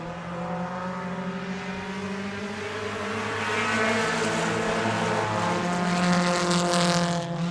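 Dirt track race cars roar back to speed on a green-flag restart at Victory Lane Speedway in Manitoba, a dense, steady engine drone with harmonic bands that swells louder as the pack accelerates, with no talk.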